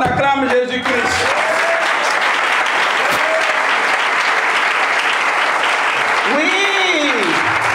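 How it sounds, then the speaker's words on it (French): A large crowd at a religious gathering claps in sustained, loud, dense applause with cheering voices rising over it, while someone shouts above the noise at the start and again near the end. "Oh, on acclame Jésus-Christ"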